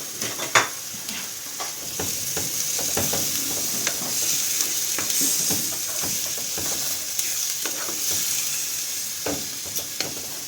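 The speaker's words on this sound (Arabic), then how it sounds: "نزيد السلق تاعي كتكون مفوراته" Blanched chard frying in a pan, a continuous loud sizzle and hiss broken by repeated scraping and clinking of a utensil stirring against the pan.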